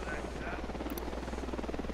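Helicopter in the Ghost Recon Wildlands video game, a steady low rotor thrum sitting beneath a man's speech.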